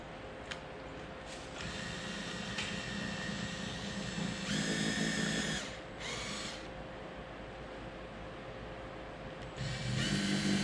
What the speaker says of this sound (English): that's 48 holes we're drilling in our roof